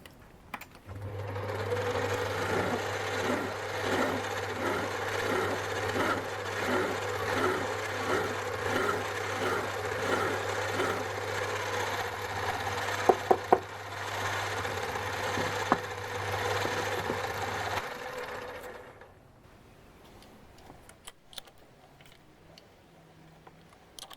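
Mild steel being threaded with a die as a machine runs with a steady, rhythmic mechanical hum and faint ticking for about eighteen seconds before it stops, leaving a quieter tail.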